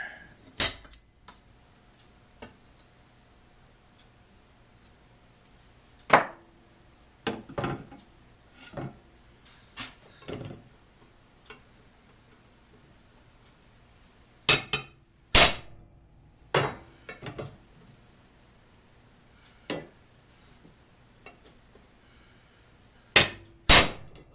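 Sharp metallic taps of a prick punch marking a metal bar ring out one at a time at irregular intervals, with quiet stretches between the strikes.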